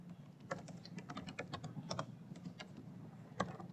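Rapid typing on a computer keyboard while coding a React component, with a steady run of close, crisp key clicks and a hum beneath them, and no one speaking.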